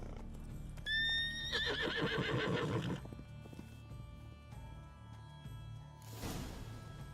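A horse in The Witcher 3: Wild Hunt gives a loud, close whinny lasting about two seconds, with hoof clip-clops and game ambience continuing beneath it.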